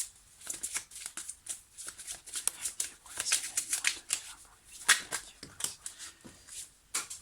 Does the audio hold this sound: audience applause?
no